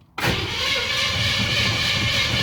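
A car engine catches after a brief silence and jumps straight into a loud, steady roar that holds to the end, with no voices over it.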